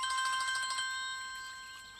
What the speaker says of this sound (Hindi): अरे फोन है।